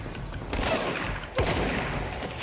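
Alien shotgun fire in the sci-fi action game Control, two heavy booming blasts about a second apart over a dense, noisy rumble of ongoing combat, loud and close.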